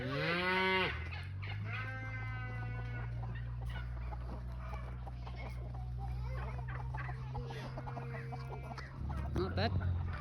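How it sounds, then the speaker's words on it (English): Cows moo at feeding time on a farm on an autumn morning, one long low moo stretching over several seconds, with a chicken clucking and a person talking briefly at the start. "the cows are waiting for Uncle Jonah"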